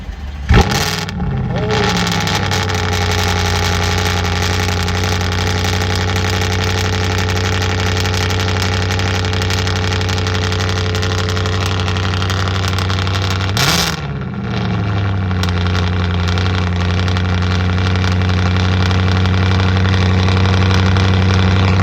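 An Audi RS5 with a Capristo catback exhaust and downpipes cold-starts, cranking and catching with a loud bark, settles into a deep, rumbling idle, then blips with a sharp rev before idling steadily.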